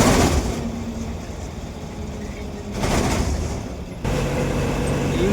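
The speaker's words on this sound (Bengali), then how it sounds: "ইঞ্জিনের আওয়াজে কিছু বুঝতে পারছি না, মানে কথা বোঝা যাবে না।" Car engine drone from inside a moving car on the road to Kolkata airport, a steady loud rumble with broadband road noise that swells briefly midway and stays constant throughout.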